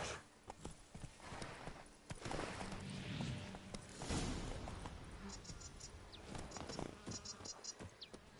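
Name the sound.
horse Roach's hooves in video game The Witcher 3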